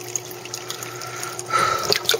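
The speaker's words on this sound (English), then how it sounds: "Water's still filling up." Water runs and trickles as it fills a tank fitted with a clear bell siphon, a soft gurgling flow that swells in the last second with a few bright drips.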